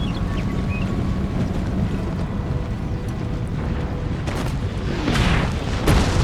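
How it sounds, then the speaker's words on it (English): Artillery fire during an elite line battle between American and British armies in the video game Empire Total War, heard as a continuous dense rumble with scattered booms and sharper bangs near the end, no talk over it. "Artillery's bouncing off."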